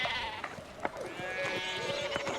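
Sheep bleat in the video game Pentiment, a couple of wavering, nasal calls over a soft ambient game background, moderately close and alone without talk.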